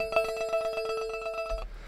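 A synth note runs through a delay effect and is re-triggered, giving a rapid train of bright, bell-like repeats that pulse evenly and then cut off abruptly near the end.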